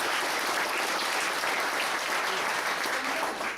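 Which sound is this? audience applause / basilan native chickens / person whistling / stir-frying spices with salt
audience applause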